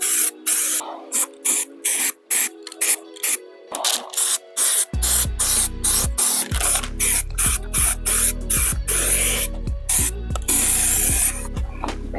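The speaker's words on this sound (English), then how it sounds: "after a long couple of cans and self-etching black primer" Short hissing bursts from a spray can of self-etching black primer being applied in the engine bay of a 1951 Chevrolet Styleline business coupe. The bursts repeat rapidly and sound close, and a steady low hum joins partway through.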